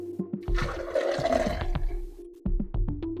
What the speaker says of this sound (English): Pour it out.